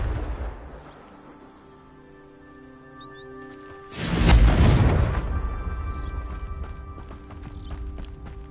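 A Confringo blasting spell explodes in Hogwarts Legacy: one loud, broad boom near the middle, decaying over several seconds above steady game ambience and faint background music.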